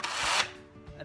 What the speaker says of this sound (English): You can just pop the battery on charge, pop it in,